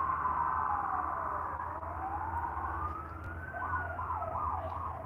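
An emergency siren, police car or ambulance, wails from a distance, a slow rising and falling tone that turns into a quicker warble, over a low road rumble.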